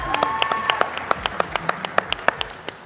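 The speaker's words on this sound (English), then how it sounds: "Give them a round of applause," An audience at a TCL television launch event claps: a short, fairly sparse round of applause with distinct individual hand claps ringing out close by in a room.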